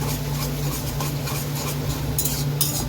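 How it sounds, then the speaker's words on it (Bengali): Ginger garlic paste being stirred into fried onions in a pan, with a steady sizzle and a constant scraping of the spoon against the metal, plus a few light clinks. "পেঁয়াজটাও ভাজা ভাজা হয়ে গেছে, তো এখানে আদা রসুন বাটাটা দিয়ে দিই।"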